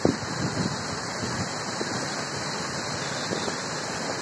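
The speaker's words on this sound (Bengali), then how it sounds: "প্রচুর ঝড় বৃষ্টি হচ্ছে, প্রচুর প্রচুর হাওয়া দিচ্ছে।" Cyclone Amphan brings a dense, steady roar of heavy rain and strong wind that fills the air without a break, with a few louder gusts rising out of the constant wash.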